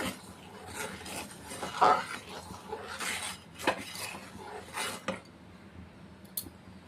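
Sweet Mysore Pak mixture being stirred in a pan over a medium flame, with soft scraping and clinks of a spoon against metal at an uneven pace, fairly quiet and close.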